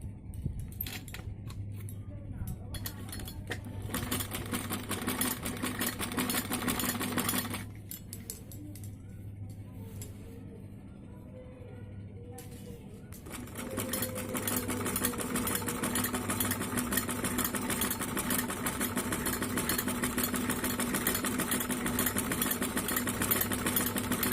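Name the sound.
sewing machine stitching kameez kurti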